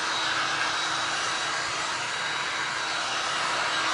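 A dryer blowing to dry paint for glass and resin art, a loud, steady broadband whoosh that runs unbroken throughout with no voices.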